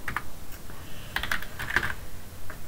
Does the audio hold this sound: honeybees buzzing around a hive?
no